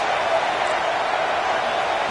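A stadium crowd at a state-versus-state football game roars for the defense on a third down, a broad, steady wash of cheering noise holding at one level throughout.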